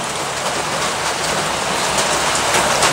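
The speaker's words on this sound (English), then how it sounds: "A lot of walking in the rain for not much." Steady rain pours down outdoors on a wet Alabama day, a dense, even hiss of drops hitting the ground up close, loud and unbroken with no voices.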